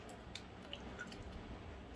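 A crunchy chocolate cream-filled cookie is bitten and chewed, giving soft close crunching and squishing bites over a quiet room, faint and brief.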